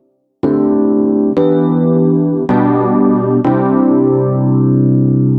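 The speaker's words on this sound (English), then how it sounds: "it has this really cool vintage tape sound" A keyboard patch on an MPC run through the Tape Double Track effect for a vintage tape sound, playing four sustained chords in a slow sequence, loud and wide, with no voices.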